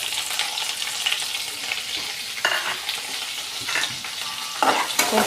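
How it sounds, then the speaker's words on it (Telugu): Chopped onions with mustard seeds and a dried red chili fry and sizzle steadily in a pan for a Telugu patodi curry, broken by several scraping strokes of a spoon stirring them; close and alone, with no voices. "కలుపుకుందాం కొంచెం ఎర్రగా ఫ్రై అవ్వాలండి బ్రౌన్ కలర్ వచ్చినంత వరకు వేగాలి"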